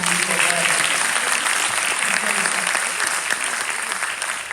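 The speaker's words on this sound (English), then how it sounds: "Let's give me another round of applause." A room of people applauds at a softball signing day, a dense steady round of clapping with a few voices mixed in, holding strong before easing slightly toward the end.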